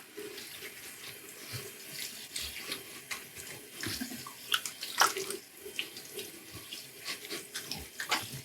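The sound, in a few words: water rinsing off alum after shave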